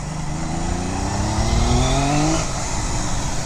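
A 1975 Kawasaki S1 250 two-stroke triple motorcycle engine running nearby with a buzzy, rising rev that climbs in pitch, then settles back to a steady idle.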